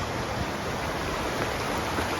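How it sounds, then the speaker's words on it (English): Hatch Creek in Lassen Volcanic National Park, a steady broadband rush of flowing stream water, close and even, with no voices. "This is called Hatch Creek."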